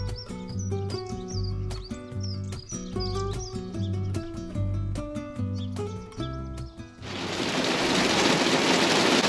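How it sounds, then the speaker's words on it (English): Rain drums on a camper van in Cardigan, Wales, arriving as a loud, dense, steady hiss during the last two seconds, after a run of tonal chirps and notes. "But it's raining here in Cardigan."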